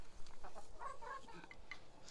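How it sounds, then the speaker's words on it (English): Soft, scattered clucking from chickens, faint and somewhat distant over quiet background noise. "do you hear those nice chicken noises?"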